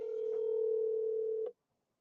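A steady telephone tone sounds on an outgoing call, holding one continuous pitch for about a second and a half before cutting off abruptly into silence.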